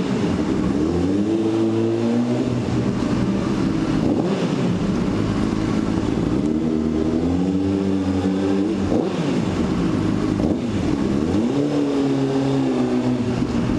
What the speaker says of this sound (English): the bike is loud as fuck in this garage